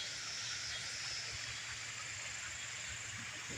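A creek on a woodland trail flows in a steady, soft, continuous rush of water, faint and unbroken, with no voices over it.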